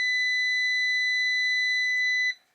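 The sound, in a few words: multimeter continuity beep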